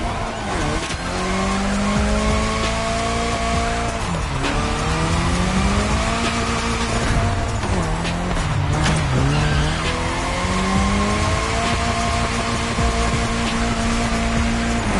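Loud racing video game car drifting continuously, with a revving engine rising and falling and sustained tire squeal through the whole stretch.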